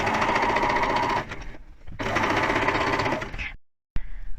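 Sewing machine stitching along a raw fabric edge for a welt pocket, a steady close whirring hum in two runs with a short pause between, ending in quiet and a brief restart.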